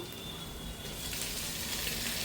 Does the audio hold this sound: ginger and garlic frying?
yes